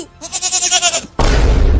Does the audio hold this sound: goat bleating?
yes